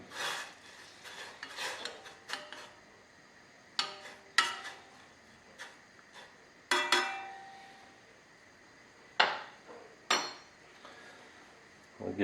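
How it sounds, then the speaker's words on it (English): A utensil stirs fresh basil leaf tea in a pot, making repeated scraping rasps and metallic clinks against the pot in irregular strokes, close up and with no talking. "I'm just going to give that a stir."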